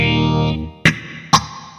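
Electric guitar through a Nux Mighty Air amp with plate reverb: a sustained distorted chord decays, then two sharp struck hits follow with washy, swirling reverb tails, close and fairly loud.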